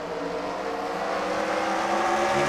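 Pack of race cars roaring around the Bristol short track, a dense continuous wall of engine noise with overlapping revs and no gaps, loud and steady throughout.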